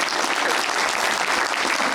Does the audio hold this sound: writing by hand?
no